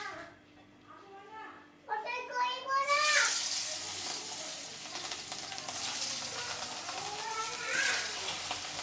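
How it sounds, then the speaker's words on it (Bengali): Fish frying in a pan on a home stove, a loud crackling sizzle bursting in after a brief spell of children's chatter and continuing steadily, with faint voices now and then. "মাছ ভাজা হচ্ছে।"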